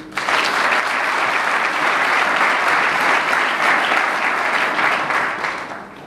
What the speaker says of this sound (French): nous appelons toute l'Assemblée à applaudir nos partenaires